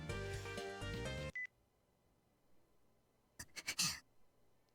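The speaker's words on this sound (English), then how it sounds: "I suddenly hear a weird tone coming from my pocket. I pull out my phone to answer it" Electronic tones from a phone in the visual novel game Chaos;Head Noah: a loud chiming tonal melody for over a second, then quiet, then a few sharp beeps near the end.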